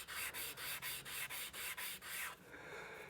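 Hand-sanding a wooden archtop guitar headstock makes about ten steady, close back-and-forth rubbing strokes, then trails off into a softer scrape.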